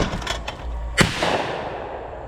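Shotgun blasts during trap shooting at clay targets: a sharp, loud report around the middle with a rolling echo tail, preceded by softer thumps and outdoor ambience.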